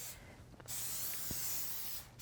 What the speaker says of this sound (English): So I give it a spray all around